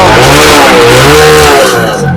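A used Bajaj motorcycle at a motorcycle fair in Chuadanga revs loudly up close, its engine pitch rising and falling in a continuous roar.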